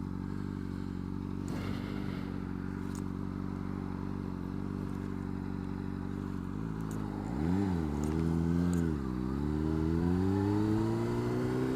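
A Honda CBR600RR motorcycle idling and then pulling away, a steady engine drone that rises and falls through a few revs, heard close under wind noise.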